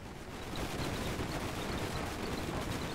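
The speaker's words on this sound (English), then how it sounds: "Use the Gatling guns to shoot against this hive" Continuous dense rattle of Gatling guns firing in Airships: Conquer the Skies, a steady unbroken stream of rapid shots held at even loudness throughout.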